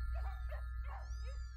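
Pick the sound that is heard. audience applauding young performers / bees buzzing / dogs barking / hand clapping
dogs barking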